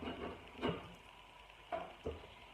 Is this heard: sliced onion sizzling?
yes